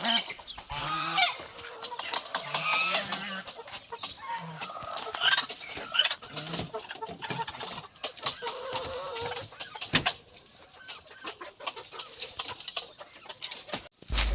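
Native geese honk and chatter among other farm fowl in a Philippine backyard farm, a busy mix of repeated calls, clucks and squawks, some near and some farther off, with no talking.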